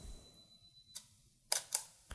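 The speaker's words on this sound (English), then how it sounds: "I'm going to extend the shutter speed and give it another try." Camera shutter firing while photographing a dandelion indoors, several crisp mechanical clicks spaced apart, close and distinct against near silence.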